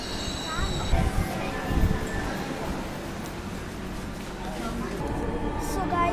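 A metro train rumbles along steadily with wheel squeal and hum, while voices and faint announcements of the next station, Shahbag, carry over the interior noise.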